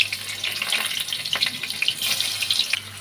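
Jackfruit pieces dropped one by one into hot oil give a steady, fairly faint sizzle with crackling pops and brief bursts, with no one talking.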